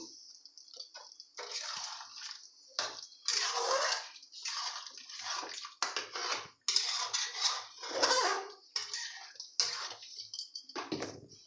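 Hot water is poured into chicken cooking in a pan, giving bursts of splashing and pouring that start and stop irregularly, with short quiet gaps between pours, heard close up.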